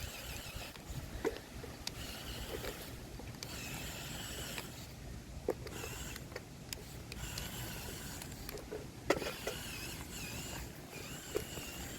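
Small RC Hummer H2 toy car drives slowly across mulch, giving a steady whirring motor hum with scattered crunches and ticks from the wheels over the wood chips, continuous and close.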